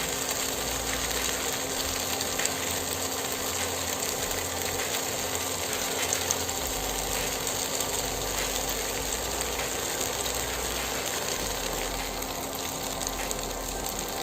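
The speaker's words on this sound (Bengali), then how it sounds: "আমি 5 মিনিট ফ্রাই করে নিছি" Noodles frying with spices in a pan give a steady, dense sizzle throughout, even and continuous with a faint low hum underneath.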